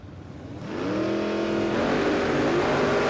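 A supercharged LJ Torana drag car launches down the strip in a Supercharged Outlaws race at Willowbank Raceway, its engine note swelling from a low idle into a loud, sustained roar with a rising harmonic whine as it accelerates away.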